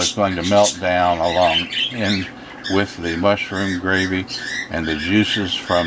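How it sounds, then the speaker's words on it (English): Pet birds in a home kitchen squawk and screech in loud, repeated bursts, mixed closely with a person talking through a cooking demonstration. "I guess you can hear our birds in the background."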